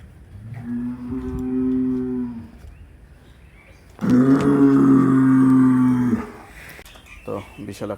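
A huge breeding bull at Savar Dairy Farm near Dhaka lets out two long, droning lows, the second louder and closer, with farm noise in between.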